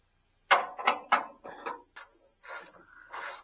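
Bolts being tightened on a 1958 Willys drivetrain with Dana 44/25 axles: a run of close ratcheting and rubbing metal clicks in short bursts, followed by longer scraping strokes, with no talking.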